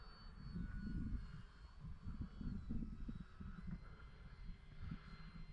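An OMP Bighorn RC model airplane on its maiden flight, a faint distant motor whine steady for about five seconds beneath heavy low wind rumble outdoors.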